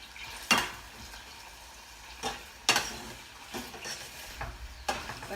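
Sautéed vegetables sizzle in butter in a pan for spicy cornbread muffins, a soft continuous frying hiss punctuated by a few sharp clacks of a utensil against the pan, nearby with no voices.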